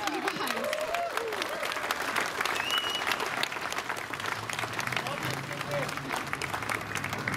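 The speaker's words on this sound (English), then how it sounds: "Round of applause for you girls. Round of applause." A crowd at an outdoor rally breaks into sustained applause, dense continuous clapping mixed with scattered cheers and whistles, heard from within the gathering at steady loudness.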